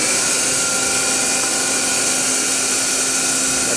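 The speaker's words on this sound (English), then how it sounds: "Let's go ahead and fire up the main spindle." The main spindle of a Daewoo Puma 230MSC CNC lathe, fitted with jaws, runs at steady speed, giving a loud, even whine with sustained tonal hums and broad hiss, constant throughout with no talking.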